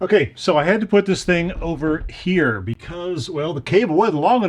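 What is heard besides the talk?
No distinct noise like a dog, phone or traffic.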